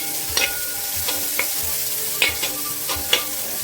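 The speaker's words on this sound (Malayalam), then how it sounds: "ഇതൊന്ന് വഴറ്റിയെടുക്കാം, ഒരുപാട് വഴറ്റിയാൻ വേണ്ട." A small amount of onion is stirred and sautéed in a pan for a chicken mulakittathu curry, with a steady sizzle broken by several distinct spoon scrapes and clinks, close and alone without speech.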